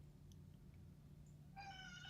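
Cat meowing indoors in a short, faint harmonic call that comes in near the end over a steady low hum.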